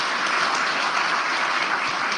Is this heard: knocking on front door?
no